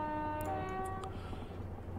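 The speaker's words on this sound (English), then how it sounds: "So you have to sound the horn whenever you go over these crossings here." A Class 375 train horn in the Train Simulator 2016 game sounds a short tonal blast over a steady low rumble of the moving train, fading after about a second.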